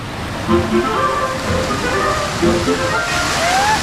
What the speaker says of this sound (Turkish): Böyle bir su şöleni var şu an bakın